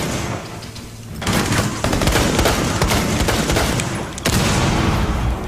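Rapid bursts of automatic gunfire from the Rainbow Six Siege video game, loud and dense, with a brief lull before the firing resumes in overlapping volleys.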